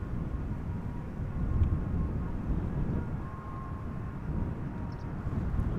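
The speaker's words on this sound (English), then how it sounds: "Got an A330-200 arriving." Airbus A330-200 airliner arriving at Amsterdam Schiphol in crosswind, a steady broad low jet roar that holds throughout at moderate distance with no voices.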